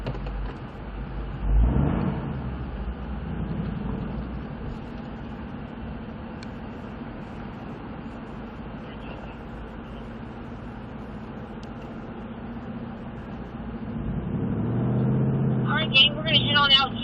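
Ford Mustang in track mode on a racetrack, its engine a low steady hum heard from inside while someone talks over it, swelling louder as it pulls up near the end.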